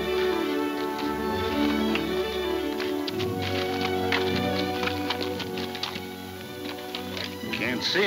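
Horse hooves clip-clop in a 1941 western serial, a scatter of sharp taps heard beneath tense dialogue and a musical score.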